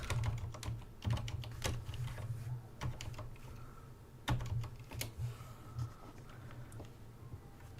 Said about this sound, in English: It's supposed to be a silent mechanical keyboard, but it's still pretty loud